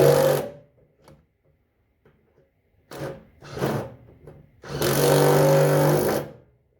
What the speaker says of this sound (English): Now I'm using a deep socket 1/2 inch right here so it can go all the way down without pressing on the nut. We're rotating to tighten.